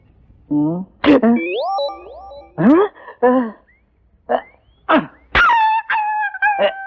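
A dog barks and yelps in close, loud bursts, with several short sharp cries and a few longer rising whining barks separated by brief pauses.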